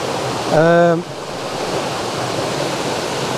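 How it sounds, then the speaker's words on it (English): A cascade spills over rocks with a waterfall further off, making a continuous broad rushing roar throughout. A voice briefly speaks over it near the start. "the cascade coming down and the waterfall up in the distance"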